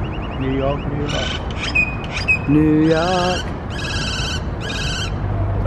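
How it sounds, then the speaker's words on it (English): A small bird sings along the Las Vegas Strip on a morning walk, short chirps and warbled phrases near the mic, mixed with a person's speaking voice. "The bird's singing with me."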